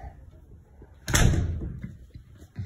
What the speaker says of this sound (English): Quality door.